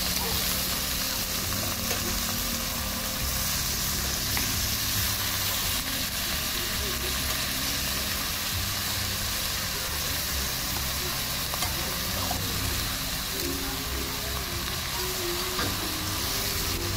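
Mustard-based katla fish curry sizzles and fries in a pan while a spoon stirs it, a steady loud hiss with scraping and stirring, close-up, with a voice faintly present.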